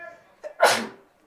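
A single sharp sneeze, close and abrupt, preceded by a brief intake of breath, then quiet, during a high school baseball game broadcast.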